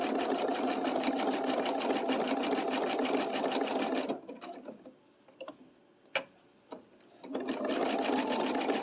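Domestic sewing machine running a blanket stitch for appliqué, a fast, even mechanical rattle close by that stops midway for a pause with a few clicks before the stitching resumes.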